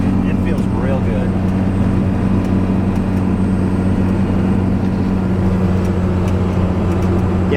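A 1992 Dodge 2500 4x4 pickup truck cruising at highway speed, its steady engine drone and road roar filling the cab continuously and close by.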